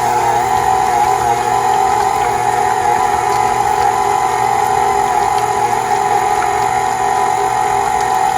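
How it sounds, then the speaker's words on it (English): KitchenAid stand mixer with a paddle attachment beating cheesecake batter at low speed, a steady, loud motor whir holding one even tone throughout, with no talk. "I'm going to spare you 4 minutes of watching the KitchenAid go around"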